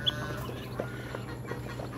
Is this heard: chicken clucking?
yes